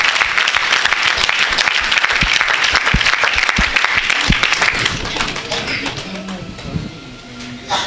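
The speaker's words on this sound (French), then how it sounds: "Est-ce qu'on peut acclamer pour Jésus-Christ?" At a church service a congregation applauds with loud, dense clapping that carries on steadily and then thins out toward the end, while voices are heard in the hall.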